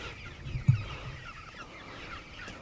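Chickens on a chicken farm cluck softly amid a low background murmur of birds, with one brief louder cluck near the start.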